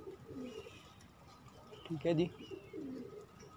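Pigeons coo softly in a home loft, a large adult bird with its young nearby, low throaty calls in short phrases at the start, middle and end, faint and close, with a voice speaking briefly.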